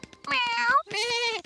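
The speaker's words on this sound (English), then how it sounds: "Meow. Meow." A cartoon cat meows twice in the Peppa Pig animated series, two long, clear, close and loud meows back to back, with no other sound around them.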